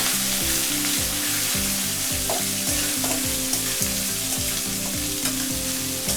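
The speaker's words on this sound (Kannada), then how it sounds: "ಸ್ವಲ್ಪ ಈರುಳ್ಳಿ ಬಾಡೋ ತನಕ ಸ್ವಲ್ಪ ತಿರುಗಿಸ್ತಾ ಇರಬೇಕು" Ginger, green chilli and onion fry loudly in hot oil for Bombay sagu, a dense continuous sizzle with a few spatula taps and stirs, close up with no voices.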